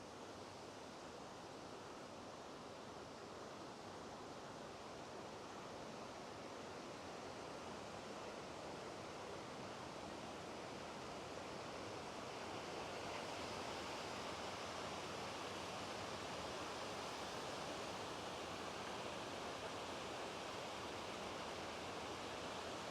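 Water rushes over a dam on the Saugeen River, a broad, constant roar of falling water that fills the whole scene, steady and loud without pause or voices.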